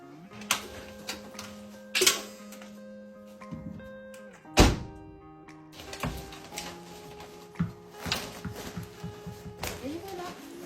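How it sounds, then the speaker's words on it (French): A Miele heat pump tumble dryer drying a down jacket with tennis balls: irregular hollow thuds and knocks as the load tumbles, some sharp and loud, over a steady mechanical hum. "on va les sécher au sèche-linge. Bien sûr, toujours avec les balles de tennis pour bien regonfler toutes les plumes."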